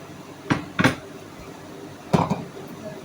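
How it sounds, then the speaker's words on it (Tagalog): A spoon clinks and scrapes against a bowl in a few short bursts while mango is stirred with sugar and milk for homemade ice candy. A quiet room sits beneath the bursts. "I put this one, I mix with the mango, and then sugar and milk, guys. I mix it."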